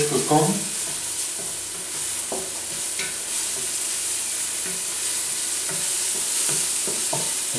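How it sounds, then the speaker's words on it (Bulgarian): Onion frying lightly in a pan gives a steady, close sizzle with occasional stirring scrapes and clicks, continuous throughout with no voices. "Така, запържваме леко лука."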